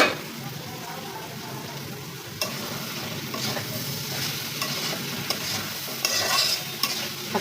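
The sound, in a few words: small Rangpur potatoes being sautéed in a pan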